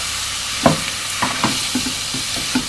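Ground beef fries in a pan with a constant sizzling hiss, broken by several close scraping strokes as a utensil stirs and breaks up the meat.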